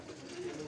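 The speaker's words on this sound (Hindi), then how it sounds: "ये उस्ताद जी के सारे प्रवासी कबूतर हैं माशाल्लाह" Pigeons coo softly on a rooftop loft, a brief low murmur at some distance.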